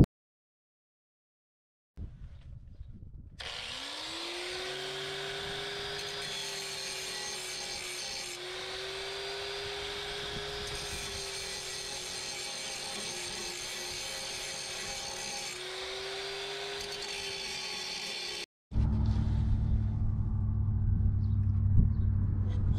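Steady, sustained abrasive grinding on a broken car exhaust pipe being repaired with a stainless clamp, one continuous pass of about fifteen seconds at constant pitch and volume, close by, followed by a short burst of rumbling handling noise.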